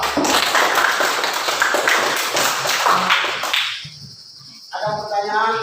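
Pupils in a primary classroom applaud discussion group 2, a dense patter of many small hands for about three and a half seconds that fades out, followed by quieter room noise and a faint tone.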